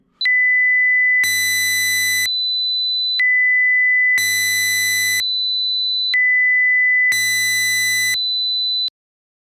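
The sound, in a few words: sine wave tone from FM stereo decoded in Audacity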